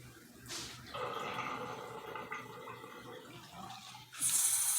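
A running tap rinses shampoo out of a human-hair lace front wig in a sink, a steady close gush of water with brief louder splashes at the start and end.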